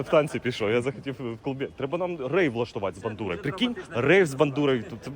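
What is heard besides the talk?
No everyday noise stands out behind the speech.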